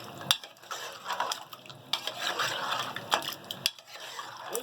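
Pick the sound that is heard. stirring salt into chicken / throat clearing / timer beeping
stirring salt into chicken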